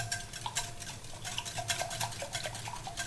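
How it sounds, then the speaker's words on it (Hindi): Steady rhythmic clinking of a whisk beating eggs and milk in a bowl for egg paratha batter, close and continuous with quick repeated taps against the bowl. "अब हम इसको अच्छी तरह से इसी तरह विस्क करेंगे"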